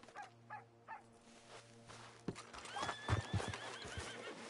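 A horse in Red Dead Redemption 2 whinnies with a rising, shaky neigh, followed by hoof clops and faint game ambience.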